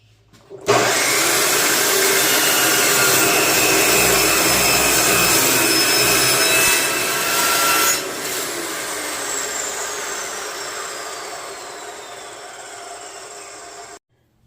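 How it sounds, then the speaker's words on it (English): A cold saw cuts through 2-inch steel angle, spinning up abruptly into a loud, sustained high-pitched whine and grinding screech that shifts in tone near the end before the motor winds down, close and alone without talk. "we're going to use our new cold saw for this. So get some earplugs because they're pretty loud."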